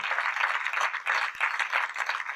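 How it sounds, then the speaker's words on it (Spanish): A church congregation claps together in steady, dense applause, a continuous rattle of many hands at moderate distance with slight swells, no voices on top. "Poner un aplauso al Señor."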